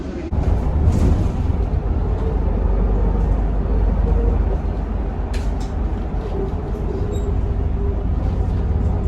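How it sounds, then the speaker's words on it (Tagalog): Steady low rumble and road noise inside a moving bus in Dubai, a constant engine drone with faint rattles and no speech. "nandito na kami ni Sky sa bus"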